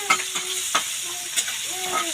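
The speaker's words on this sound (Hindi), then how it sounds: "मिर्ची फ्राई हो रहा है, हरा मिर्ची फ्राई" Green chillies frying in a home kitchen pan, with a steady sizzle broken by several scraping stirs of a spatula, close and fairly loud with no talking.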